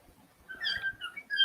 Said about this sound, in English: My bird's talking his head off.